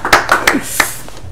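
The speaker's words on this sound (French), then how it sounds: "Est-ce qu'on peut applaudir encore?" A few sharp hand claps ring out from an audience at a French-language quiz or contest gathering, sparse and close, with no talking over them.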